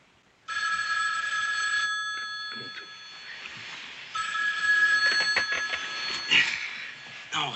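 A telephone bell rings in a steady, bright, sustained peal, with a brief break midway before it resumes, and some background movement underneath.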